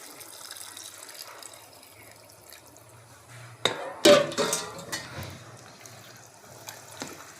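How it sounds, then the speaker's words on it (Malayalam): Boiling water, heated on the stove, is poured into a dish of food, giving a short splashing gush in the middle of a quiet kitchen stretch, with faint clatter before and after. "അപ്പോൾ അത് ഒഴിക്കാനുള്ള തിളച്ച വെള്ളം നമ്മൾ അടുപ്പിൽ വെച്ച് തിളപ്പിച്ചിട്ട് കൊണ്ടുവന്ന് ഒഴിക്കുകയാണ്."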